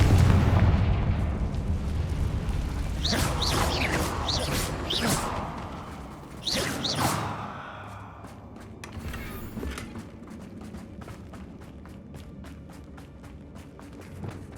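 Blasts from the Confringo spell in Hogwarts Legacy: several sharp, loud bursts cluster in the middle, with a rumbling background and a faint voice at the start.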